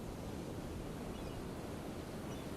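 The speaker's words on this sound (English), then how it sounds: "I'll turn that up a little bit so y'all get more of the sound of the surf and stuff" Ocean surf ambience from a Florida Gulf Coast fishing spot in the Real VR Fishing video game, a faint continuous wash of waves and wind with no distinct breaks and no voices.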